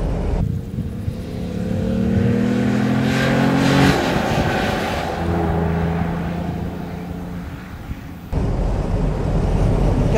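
A 1985 Mercedes 280 SL R107 engine revs up and accelerates through the gears, rising in pitch with a brief shift in the middle, loud and close.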